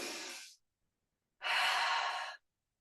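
Two slow, audible breaths, one short and one longer, drawn close to the microphone during a guided body breath awareness exercise, with quiet pauses between them.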